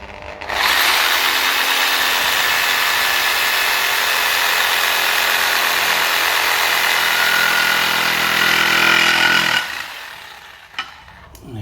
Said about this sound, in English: so here's our sawzall